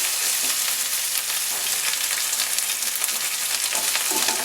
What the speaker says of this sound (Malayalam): ഇഞ്ചി, പച്ചമുളക്, കരിവേപ്പില ആഡ് ചെയ്ത് ഒന്ന് വറക്കാം